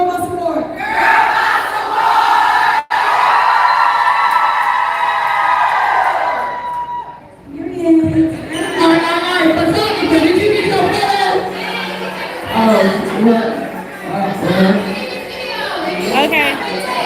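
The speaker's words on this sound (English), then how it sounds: "let's do one more time and then cheer after" A crowd of voices cheers and shouts together during a live girl boss awards stream, with a sustained loud roar followed by scattered whoops and chatter.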